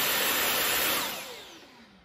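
Samsung Jet 75 cordless stick vacuum, a 2020 model, running on its max setting: a loud, steady high-pitched whine with broadband airflow rush that winds down and fades toward the end.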